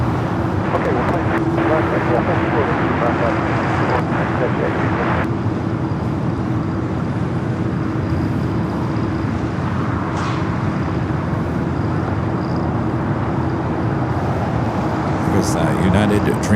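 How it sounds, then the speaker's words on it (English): A United Boeing 787 Dreamliner at LAX sends a steady engine roar across the airfield, mixed with distant traffic hum, while people talk over it throughout. "There's that United Dreamliner."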